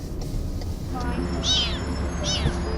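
A kitten trapped in an underground pipe in Phoenix gives two or three clear meows, the second rising and falling, against a steady low rumbling background.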